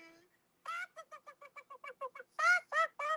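Chickens clucking in a quick run of short, evenly spaced calls that build to a few louder, drawn-out squawks, heard close and clear with a brief voice just before.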